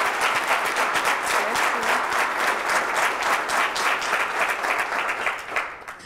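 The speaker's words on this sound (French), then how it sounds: "S'il vous plaît, un tonnerre d'applaudissements pour cette femme aux multifacettes" Loud, dense audience applause fills the hall, steady throughout as a singer is welcomed onto a French evening show stage, easing only slightly at the very end.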